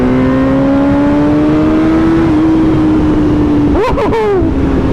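A 2013 BMW HP4 motorcycle with a CT megaphone exhaust holds a steady, loud, close engine drone, then the pitch climbs sharply as it revs hard, with quick shift-like breaks in the tone near the end.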